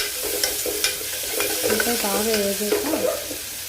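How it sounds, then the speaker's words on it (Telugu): Onions and turmeric sizzle and fry steadily in a pan, with occasional stirring scrapes and soft clinks over the hiss. "ఉల్లిపాయ అన్నీ బాగా వేగాలండి"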